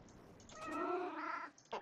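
One drawn-out cat meow from the video game WorldBox rises and falls over about a second, fairly close and soft, followed by a brief rustle.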